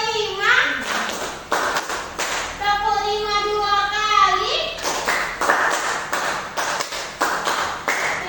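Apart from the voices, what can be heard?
rhythmic hand clapping in a classroom clapping game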